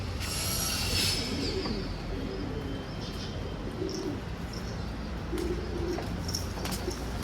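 Pigeons in a loft coo softly and repeatedly, with low murmuring calls spread through the scene and occasional higher chirps over a steady background.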